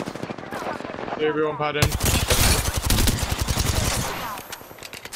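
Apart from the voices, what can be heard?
gunfire from the video game Apex Legends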